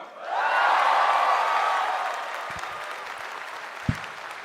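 A stand-up comedy audience bursts into applause for comedian Ratanca, loud clapping mixed with a few cheers and whoops that swells quickly, holds, then gradually thins out with a couple of sharp thumps near the end.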